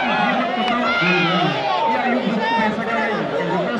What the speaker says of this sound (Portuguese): a torcida vai à loucura